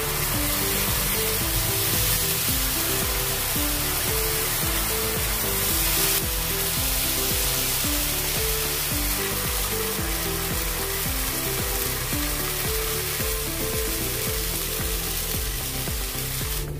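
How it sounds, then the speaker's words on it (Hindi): Dosa batter made from jowar flour and semolina hits a hot tawa and sizzles loudly and steadily, a dense continuous frying hiss with rhythmic clattering underneath throughout. "अपना डोसे का तवा गरम हो गया है। अभी इसमें डालेंगे अपना नाश्ता।"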